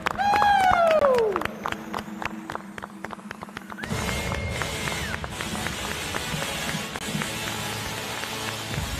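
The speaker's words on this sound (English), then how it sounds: "give them a round of applause and recognize them as well" Audience applause and cheering for finalists brought on stage at an innovation competition event, a broad wash of clapping that swells after a brief pause and continues steadily, with some voices and music underneath.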